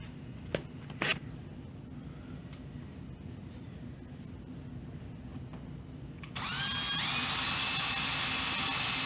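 A power drill drives screws into a drywall patch, starting with a couple of brief clicks and taps, then a steady high whirring run near the end after a long quiet stretch.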